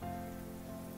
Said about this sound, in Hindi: ऑयल गरम हो गया है, अब हम इसमें हरी मिर्ची डाल देंगे